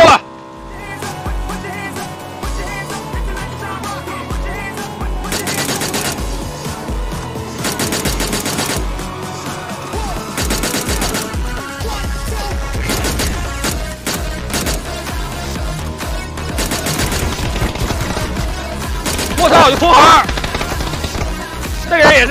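Pistol shots from a video game firefight crack out in repeated bursts and quick rhythmic volleys over a busy game soundtrack, with a voice talking at times.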